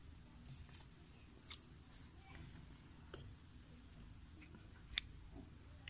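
Scissors snip beading thread at a jewelry bench while earrings are made from seed beads, giving a few sharp, faint clicks spread over quiet room noise.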